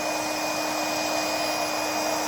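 A handheld embossing heat tool blows hot air to melt embossing powder into a shiny raised finish, giving a steady, loud, close whooshing roar that runs unbroken throughout.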